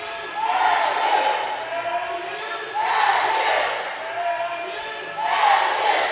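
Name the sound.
crowd participation at acrobatics and tumbling meet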